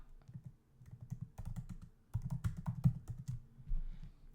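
Quick, uneven keystrokes on a computer keyboard, clicking in irregular bursts at close range, with no talking over them.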